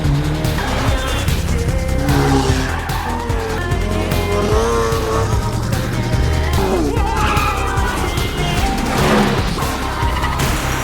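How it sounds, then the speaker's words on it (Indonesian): Old cars racing in a chase scene from a film, engines roaring and tires squealing and skidding under a loud, dense music score throughout. "Kejar-kejaran mobil jadul pun terjadi sampai akhirnya Alexi berhasil lolos."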